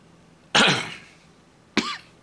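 Two sharp coughs, close and loud, the first longer and rasping, the second shorter after a brief pause, against quiet background.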